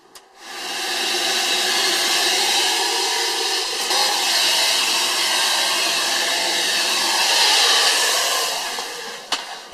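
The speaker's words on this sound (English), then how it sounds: "So now I'm just going to go vacuum up in there as best I can." A vacuum cleaner whines steadily and loudly at close range for several seconds while cleaning a hot water tank burner unit, its airy hiss holding constant before cutting off.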